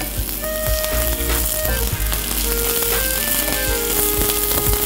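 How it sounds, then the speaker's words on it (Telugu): Onions sizzling in hot oil with ginger garlic paste added, a steady dense frying crackle that holds for the whole stretch, loud and close with scattered pops. "ఆనియన్స్ కొంచెం ఫ్రై అవ్వగానే మనం జింజర్ గార్లిక్ పేస్ట్ యాడ్ చేద్దాం. సో ఇది కొంచెం పచ్చివాసన పోయే వరకు ఫ్రై చేసుకుంటూ ఉండాలి."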